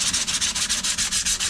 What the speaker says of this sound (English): I'm sanding the part. I'm using a rough sandpaper